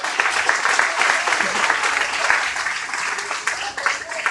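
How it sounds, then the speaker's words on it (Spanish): Steady applause from a congregation at a church women's retreat, praising the Lord, dense clapping that holds at an even level throughout with a few voices mixed in. "denle fuerte el aplauso al Señor"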